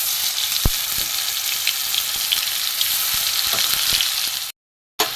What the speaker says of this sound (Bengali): এখানে আমি গোটা জিরে ফোড়ন দেব।